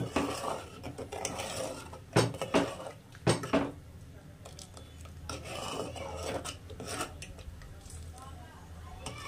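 Salt being stirred into a thick ginger pickle in a pan, giving a steady rasping, scraping stir with a few sharper metallic knocks, close and moderately quiet, with a voice talking over it.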